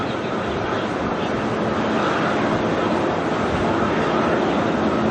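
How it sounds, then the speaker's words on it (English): An Airbus A380 airliner taking off at Auckland Airport gives a loud, steady, broadband engine roar that fills the whole stretch without letting up. "The longest A380 flight in the world. And she's out of here."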